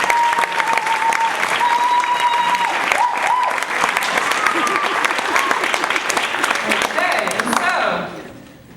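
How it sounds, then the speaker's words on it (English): Loud, full audience applause at an evening event for volunteers, with cheering and whistles riding over the clapping before it fades out near the end. "let's just give them all a round of applause."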